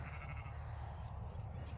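A lamb bleats on a farm, a fairly close, sustained plaintive cry over a low steady background rumble.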